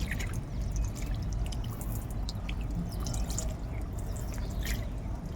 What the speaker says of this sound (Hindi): अब ऊपर से जो इसके पैड है उसके ऊपर शावर कर देते हैं।